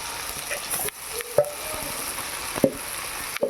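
Marinated mutton hits a pan of onion-tomato masala for a Bengali mutton and potato curry, setting off a soft sizzle with scraping stirs and a few clanks of the spoon on the pan.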